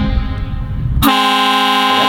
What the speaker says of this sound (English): So it's a Buell duplex horn. It's meant for small yachts, basically.